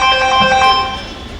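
A telephone rings onstage during a Hindi stage play, a bright electronic ringtone pattern sounding a few times loudly and clearly with no talk, then fading out.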